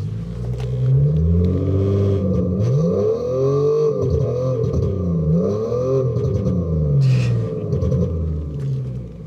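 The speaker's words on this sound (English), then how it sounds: "find out what it sounds like with the speaker exhaust system inside the Tesla" A Tesla Model 3 Long Range fitted with an aftermarket speaker exhaust system plays a loud, continuous synthetic engine drone from inside the car, with repeated rising and falling sweeps like revving and no talking.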